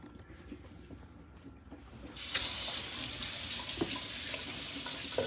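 A tap turns on partway through and runs in a steady loud rush into a sink while yam is washed by hand, with quieter handling sounds before the flow starts.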